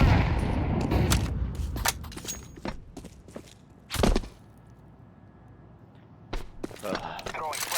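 Flashbang grenade and gunfire in a shooter video game: a run of sharp, crackling bursts, then one loud, broad blast partway through, followed by quieter scattered shots and movement.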